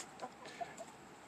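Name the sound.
chicken clucking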